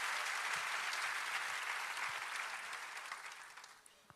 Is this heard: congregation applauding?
yes